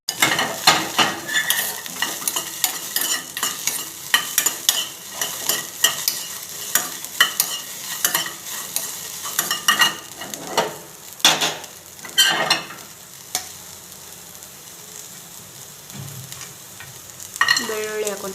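Onions fry and sizzle in a pan for chickpea sambar while a metal spoon scrapes and stirs in repeated clanks, close and steady with brief pauses, no talking.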